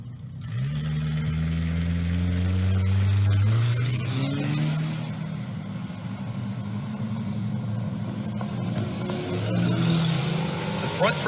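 An 1989 Dodge Caravan minivan with a four-cylinder and a 2001 Camaro launch side by side in a drag race, engines revving loud and rising in pitch through the run, with a commentator talking over them throughout.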